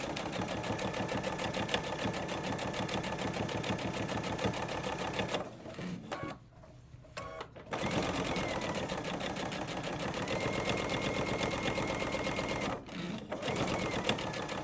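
A sewing machine stitches along a fabric edge, its needle chattering in a fast, steady rhythm that stops twice for short pauses before starting up again, close and without talk.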